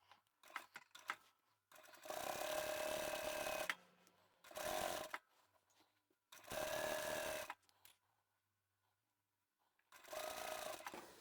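A sewing machine with a size 14 needle runs in several short bursts of rapid mechanical stitching through cotton, separated by quiet pauses and faint handling noises.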